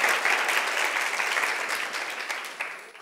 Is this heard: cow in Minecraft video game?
no